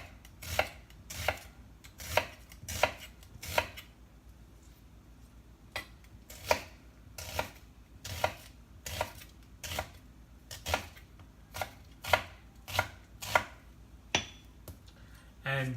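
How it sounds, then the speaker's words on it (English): A knife slices onions on a cutting board for pasta with meat sauce, giving a regular series of crisp thuds, roughly one to two per second, close and distinct with a short pause midway. "After that, go ahead and just slice the onions."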